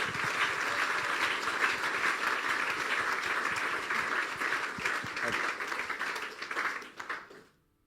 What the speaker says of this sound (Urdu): بجا دیں یسوع کے لیے تالیاں.